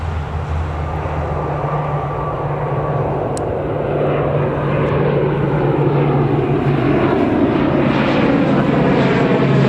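A fixed-wing aircraft passes at Newcastle Airport, its steady engine roar loud and continuous throughout, with a broad rumble that swells slightly toward the end and no talk.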